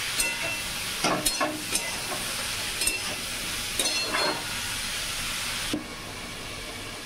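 Ridge gourd being stir-fried with spices and a little salt in a pan, a moderate continuous sizzle broken by several scraping stirs of the spatula, the hiss dropping slightly near the end.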